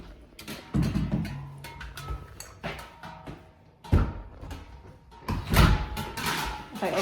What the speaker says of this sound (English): If I open my front door